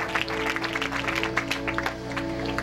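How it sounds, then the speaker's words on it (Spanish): Applause from an evening event crowd welcoming two women, dense clapping running steadily throughout under a sustained musical or droning background tone. "Recibámoslas con fuertes aplausos en esta gloriosa hora de esta noche"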